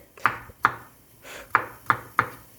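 A knife chops ingredients finely on a board in five sharp, fairly even knocks, close and clear against a quiet background.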